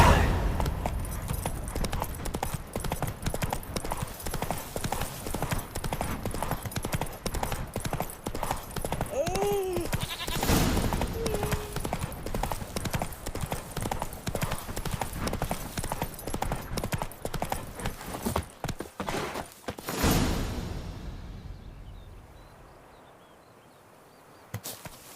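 Hooves of Roach, Geralt's horse in The Witcher 3 on PS5, clip-clop in a steady rhythmic gait with a brief whinny midway, then the hoofbeats fade out near the end.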